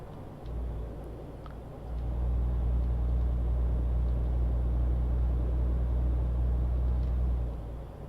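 Heavy truck engine rumble in Euro Truck Simulator 2, a low steady drone that rises after a couple of seconds, holds evenly and then eases off near the end, with no talk over it.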